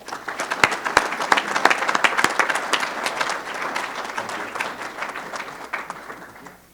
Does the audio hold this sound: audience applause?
yes